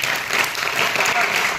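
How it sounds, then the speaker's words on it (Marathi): Audience applause at a school event in Maharashtra, a dense steady clatter of many hands clapping together, loud and close, lasting throughout without a break. "सर्वात जोरदार हिच्यासाठी टाळ्या वाजवा तुम्ही."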